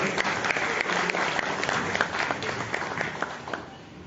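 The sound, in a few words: applause for an honoured guest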